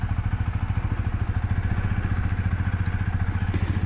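A rental motorbike ridden through Vietnam, its small engine running with a steady, fast pulsing throb and clattery rumble that stays loud and close throughout, with no talk.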